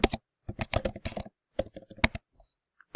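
Close, crisp keyboard typing in quick bursts of keystrokes separated by short pauses, with no talking over it.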